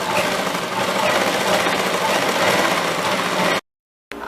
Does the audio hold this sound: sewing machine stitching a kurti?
yes